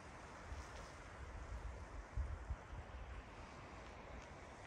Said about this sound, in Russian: И вот такая тишина и море.